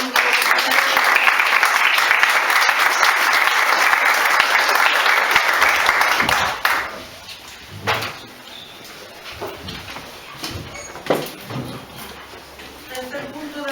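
Applause fills a council chamber during an island council session, loud steady clapping for about six seconds that stops abruptly, followed by scattered knocks, shuffling and faint room noise.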